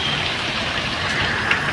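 Rain falls steadily outside a family home during the rainy season, a dense, even hiss of drops that fills the whole stretch with no talk.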